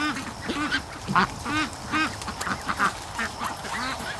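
Rouen and Pekin crossbreed duck quacking nearby in a rhythmic series of repeated nasal quacks, about eight calls in quick succession with little else in the background.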